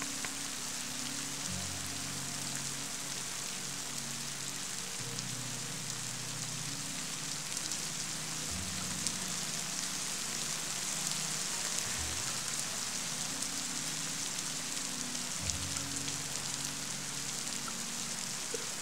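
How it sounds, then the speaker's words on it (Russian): Steady rain patters continuously on a surface, a soft even hiss with a faint low hum underneath and no voices. "Все время дождик шел в этот день."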